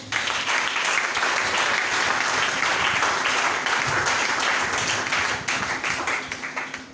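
A church congregation bursts into sustained applause, dense clapping from many hands filling the room at a loud, steady level before easing slightly toward the end.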